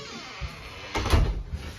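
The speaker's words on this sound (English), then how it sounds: "Make sure that you fully close the door after getting out all the way." An elevator door closes with a muffled thud and rattle near the middle of the clip, set against a quiet, steady room hum, with a smaller knock just before it.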